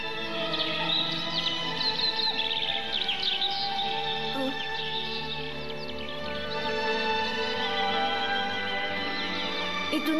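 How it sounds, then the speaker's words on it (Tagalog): Birds chirp and call loudly in a quiet outdoor spot, with overlapping tweets and whistles layered over a steady hum of insects, continuous and fairly close. "Naririnig mo ba yon? Ang lakas ng huni ng mga ibon."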